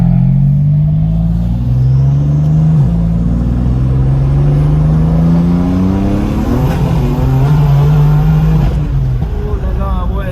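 A turbocharged car of about 780 horsepower accelerating hard, the engine droning loudly and climbing in pitch through repeated gear changes, with people talking over it.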